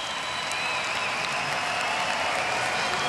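A boxing crowd cheers and applauds the winner after the final bell of an amateur bout, a dense steady roar of applause heard from a distance and filling the whole moment.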